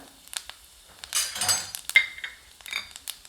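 Whole cloves, a piece of cinnamon, fennel seeds and a torn bay leaf go into a hot pan with oil, giving a brief burst of sizzle among light metallic clinks and scrapes of a spoon against the pan.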